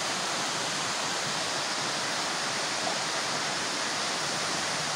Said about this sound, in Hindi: इसके अंदर प्रोजेक्ट के अंदर एक बड़ी खूबसूरत वाटरफॉल है आप ये वाटरफॉल को देख सकते हैं